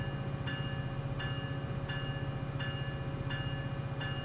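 A train rolls along rails in San Bernardino with a steady low rumble and a rhythmic series of evenly spaced clacks and squeals, heard alone at moderate distance.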